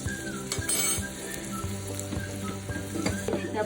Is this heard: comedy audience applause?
no